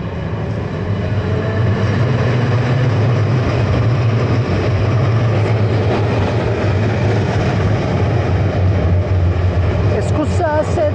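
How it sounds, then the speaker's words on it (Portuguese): A tram runs along a Milan street, giving a loud, continuous rolling rumble for the whole stretch, with a voice talking over it and a few brief higher sounds at the end. "Tá vindo um bonde."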